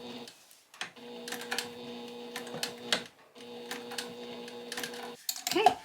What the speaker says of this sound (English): You can see me back stitching.